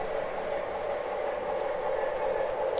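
A coal drag freight train rolls past in a steady, continuous rumble with a mid-range rail hum, loud and unbroken with no distinct wheel clicks and no talking.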